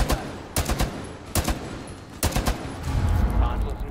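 Gunfire in the video game Rainbow Six Siege, several loud, sharp bursts of rapid shots separated by short pauses, with a low rumble and clatter of game action underneath.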